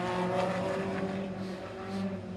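A midget race car lapping an oval track during time trials, a steady loud high-revving engine drone holding close and even throughout, with no talk.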